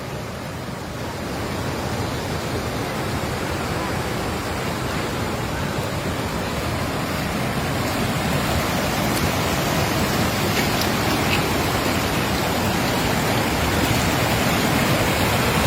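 Water rushes loudly and steadily down a hillside road in Pallivasal, Idukki, carrying landslide mud, stones and rock in a dense, continuous roar that builds slightly over time.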